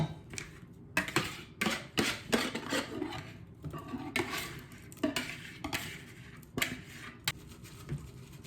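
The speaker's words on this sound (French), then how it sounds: "Je vais passer au tamis pour enlever les grains." Repeated scraping and clinking of a utensil pushing strawberry puree through a metal sieve, in irregular bursts of rubbing strokes, close and moderately loud with no talking.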